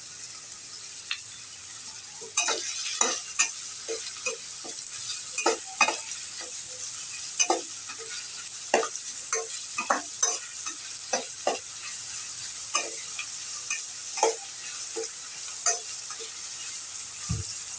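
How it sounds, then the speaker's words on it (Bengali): Chopped onions fry in a pan for drumstick leaf bhaji, giving a steady, close sizzle broken by repeated sharp scrapes and clicks as a spatula stirs the onions at irregular intervals. "পেঁয়াজটা আমি ভালো করে লাল করে ভেজে নিব"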